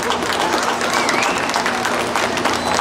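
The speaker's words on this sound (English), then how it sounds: "If we can get a big round of applause for them." A crowd at a county junior livestock show applauds the ring helpers with dense, sustained clapping that fills the space evenly, continuous and fairly loud throughout.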